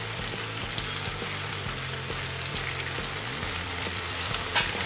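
Capsicum, paneer cubes and peas fry in a pan for vegetable biryani, giving a steady close sizzle with a soft, even crackle that holds at the same level throughout.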